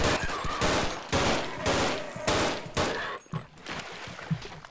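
Pistol gunfire in the first-person shooter They Hunger, a burst of loud, close shots in quick rhythmic groups over about three seconds, then a few quieter impacts and thuds.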